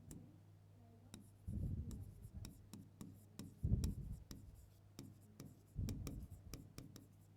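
Marker or chalk writing out the name of a weed, water hyacinth, on a board during a biology class lecture, heard as repeated close scratchy strokes and taps in short bursts, with no talking over it.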